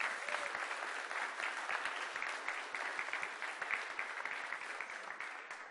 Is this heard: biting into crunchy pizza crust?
no